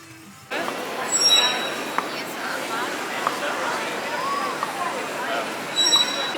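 Trains at King's Cross station in London: a steady rumble of rolling railcars with high metallic wheel squeals breaking out twice, heard amid a busy station ambience and some distant voices.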